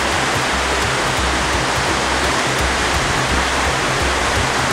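A big, powerful river rushing hard, a loud, unbroken roar of churning water that fills the whole moment at close range, with no voices.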